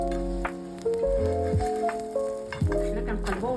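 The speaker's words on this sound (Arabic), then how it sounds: "ولوحيها في المقله راها سخونه هكا" Msemen flatbread dough sizzling in a hot frying pan, a continuous crackle with brief scraping touches as the dough is handled and pressed.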